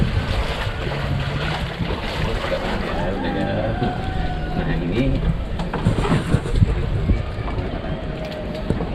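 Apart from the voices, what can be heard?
boat moving on the water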